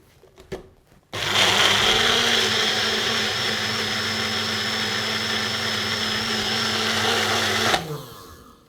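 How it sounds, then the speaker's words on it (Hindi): An electric grinder purees cooled vegetable soup in batches, starting abruptly after a moment of handling noise, then whirring loudly and steadily for several seconds before cutting off. "ये जाएगा हमारे ग्राइंडर में और ये जो हमारा वेज सूप था बैचेस में, इसे हम पीस लेंगे।"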